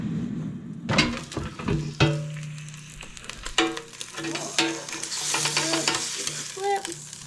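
Meat cooking at 400 degrees in an air fryer for a medium-rare result hisses and sizzles steadily, broken by scraping, clattering handling sounds and a few sharp clicks from the basket close by, with no talking.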